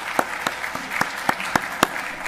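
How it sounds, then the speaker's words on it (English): An audience at a panel discussion applauds the speakers, a short burst of clapping with distinct individual claps ringing out over a few seconds in an indoor room. "Another round of applause for all three of you"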